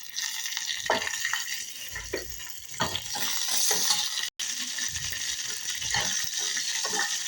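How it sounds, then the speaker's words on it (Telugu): Cumin, mustard seeds and curry leaves frying in hot oil for an idli tempering, a loud, steady close sizzle with bursts of spattering and crackling as the leaves go in, and no talk. "జీలకర్ర, ఆవాలు కొంచెం అయినాక కళ్యామాకు వేసాను."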